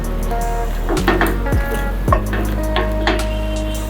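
Fried paneer is stirred in a hot pan for chilli paneer, with steady sizzling broken by several scraping strokes of the spoon, heard up close and alone.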